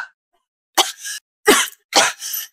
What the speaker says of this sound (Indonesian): Batuk-batuk.